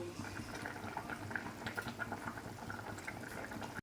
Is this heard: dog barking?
no